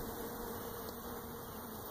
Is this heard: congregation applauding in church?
no